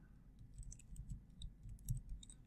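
Faint, quick clicking of computer keyboard keys as a word is typed into an input bar, in short irregular bursts against a quiet room hum.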